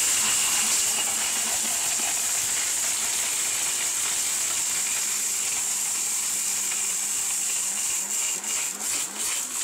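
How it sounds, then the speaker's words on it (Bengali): A steel-bush blender grinding brick into powder, giving a loud, continuous whining roar that holds steady for nearly ten seconds and wavers slightly near the end. "বাংলাদেশে এই প্রথম ভাই স্টিল বুশের ব্লেন্ডার 15 সেকেন্ডে ইট গুঁড়া"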